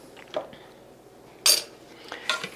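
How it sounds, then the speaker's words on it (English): Homemade keto beef stew being stirred in a pot produces a few close, sharp clinks and scrapes of a spoon against the pot's side, separated by quiet pauses. "Let me stir it up"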